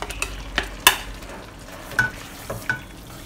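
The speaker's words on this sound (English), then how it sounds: "Just stir them in and fry them for approximately 2 or 3 minutes" Soaked bean vermicelli and cabbage stir-fried for Hainanese chap chye mixed vegetables, a steady close sizzle broken by several sharp scrapes and clinks of a utensil against the pan.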